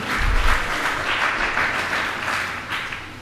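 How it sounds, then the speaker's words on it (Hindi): Audience applause for honored guests at a spiritual question-and-answer assembly, a dense wash of crowd clapping rising and falling in waves, steady and unbroken with no talk. "एक बार इनके लिए जोरदार तालियां।"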